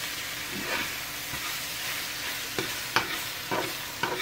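Seasoned meat for a stuffed burrito is stirred in a frying pan, giving a steady close sizzle broken by several sharp utensil scrapes and clicks against the pan, with no talking.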